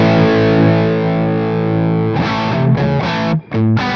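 Distorted electric guitar through a Victory MK overdrive amp turned down to low volume, a sustained chord ringing for two seconds, then a run of choppy palm-muted chords with a brief stop near the end, all without talk.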